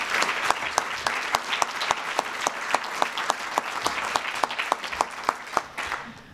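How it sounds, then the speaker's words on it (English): A crowd at a political candidates' meeting claps steadily for several seconds, sharp hand claps standing out near the front, then the applause fades out. "Would you give every one of them a round of applause?"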